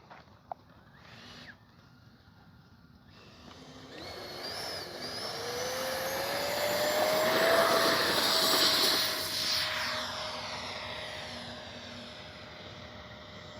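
A Freewing F-35 70mm electric ducted-fan RC jet swells from a distant whine to a loud rushing roar as it passes overhead, then fades away with a falling pitch.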